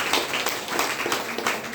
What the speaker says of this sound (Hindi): एक जोरदार ताली बजा लीजिए